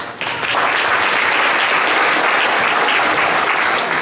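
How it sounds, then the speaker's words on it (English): Loud, dense applause from an audience at a school holiday jazz band and 8th grade band concert, a steady wash of clapping that starts abruptly and holds strong throughout. "You guys all deserve a round of applause as well"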